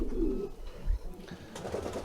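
A rare coloured pigeon on an allotment gives soft, low coos against a noisy outdoor background, close by but not loud.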